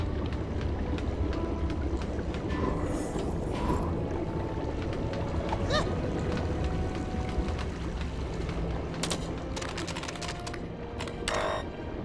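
A submarine moving underwater in the LEGO Star Wars Skywalker Saga game, heard as a steady dense rumbling wash with bubbly watery noise and a few brief clicks and blips.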